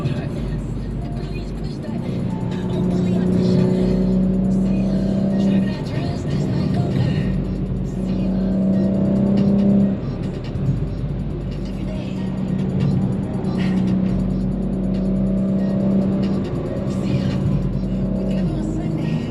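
A BMW G82 M4 Competition engine roars and revs from inside the cabin, rising and falling through gear changes, with someone talking loudly over it.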